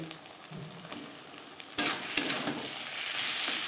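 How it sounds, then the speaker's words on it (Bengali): Cut potato pieces tipped into spices frying in a pan for a pangas fish curry, a sudden loud sizzle that keeps crackling steadily alongside stirring, close up with no talking. "তিন চার মিনিট মশলা বেশ ভালো করে কষিয়ে নেওয়ার পর দিয়ে দেবো টুকরো করে কেটে রাখা আলু"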